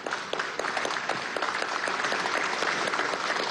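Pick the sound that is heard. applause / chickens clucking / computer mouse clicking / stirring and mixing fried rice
applause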